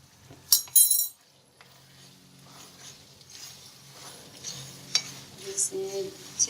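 Chicken macaroni being stirred in a pan after vinegar and soy sauce go in, with a few sharp utensil clinks against the pan and a soft, low sizzle continuing underneath.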